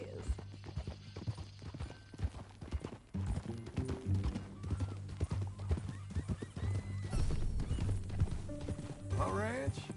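Horse hooves clip-clop steadily at a walking pace in Red Dead Redemption 2 while people talk over them, with a horse whinnying briefly near the end.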